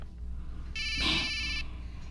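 A cellphone rings with a short electronic tone, bright and tonal, sounding once for under a second over a quiet room.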